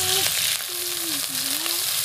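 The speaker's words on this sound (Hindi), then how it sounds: "यहाँ पे प्याज डाल दिए, उसके बाद प्याज को लाल होने देंगे" Onions frying in a pan as the start of a fish curry, a continuous close sizzle with a faint wavering tone running through it, no voices.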